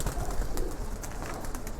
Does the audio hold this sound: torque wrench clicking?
no